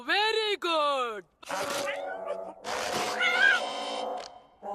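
A cartoon cat meows in a long, loud, rising-and-falling cry, then gives further drawn-out groaning meows close up with no gaps between them.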